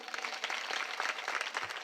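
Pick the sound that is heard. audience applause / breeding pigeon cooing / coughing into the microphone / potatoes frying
audience applause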